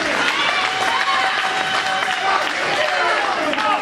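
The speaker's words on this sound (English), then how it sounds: "Fans are trying to cheer them on." A wrestling crowd cheers and claps steadily during a match, a dense continuous roar of voices and applause with a commentator's voice faintly underneath.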